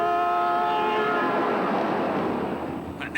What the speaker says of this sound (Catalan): L'únic que li funciona és el clàxon.